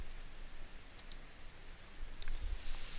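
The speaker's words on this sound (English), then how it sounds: "But you can select any of the non-shaded classes by clicking on them." A computer mouse clicks while selecting classes on a WebCT course request form: a few faint, sharp clicks spaced apart over a steady background hiss.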